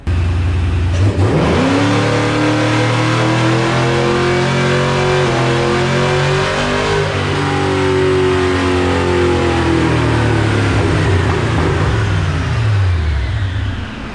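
Supercharged 3V Mustang GT with a swapped 6R80 automatic revving hard on a dyno, loud and close as the engine climbs steadily through the gears for a long sustained pull, then drops off, with no voices.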